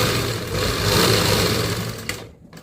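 A close domestic sewing machine stitches a salwar seam with a steady, loud whirring run, then slows and cuts out near the end.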